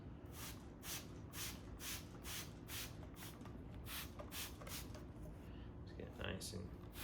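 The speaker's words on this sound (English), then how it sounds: "So, I'm just gonna spray this." A spray bottle spritzes a leather boot from a distance in a quick series of short hissing bursts, roughly a dozen pumps in a steady rhythm, close and fairly quiet.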